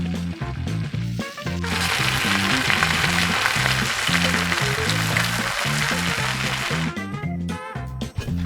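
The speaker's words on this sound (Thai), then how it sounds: "จากนั้นก็เทไข่ลงไปรอให้สุกดีกลับด้าน" Loud, steady sizzling of eggs frying in a buttered pan, close up, with a rhythmic low thumping of music running underneath.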